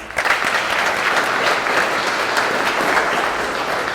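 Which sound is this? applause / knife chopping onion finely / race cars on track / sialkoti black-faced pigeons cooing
applause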